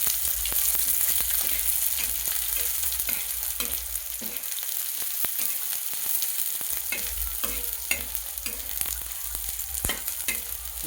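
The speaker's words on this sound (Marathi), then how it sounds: "आता याच्यामध्ये आपण कांदा टाकू परतायला. लालसर कांदा होईपर्यंत याला छान परतून घ्यायचं." Sliced onion sizzles in oil in a pan, the base for an eggplant curry, with a steady loud frying hiss and frequent scraping stirs close by, continuous throughout with no speech.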